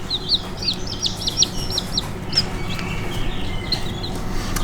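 Red Mottled Ancona bantam chicks peep and cluck close by, with several brief, high chirps scattered over a low background rumble.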